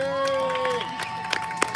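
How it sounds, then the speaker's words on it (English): Crowd at an outdoor Juneteenth celebration in Flint, Michigan, cheering and whooping for the founder, with scattered claps and sustained vocal tones and shouts blending in a lively open-air din. "let's all give a round of applause for our founder,"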